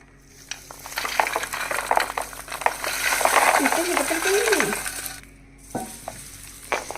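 Dried garlic cloves tipped into mango pickle and mixed in, with scraping, stirring and clinking sounds building up and easing off in a pot, close by, with a short gap near the end.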